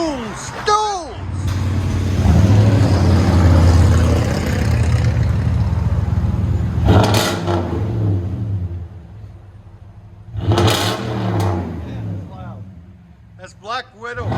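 A 2010 Toyota Tundra 5.7L V8 with a Black Widow Race Venom dual exhaust and 3-inch tailpipe rumbles at a steady idle, with two sharp revs rising above the low drone, while people talk over it.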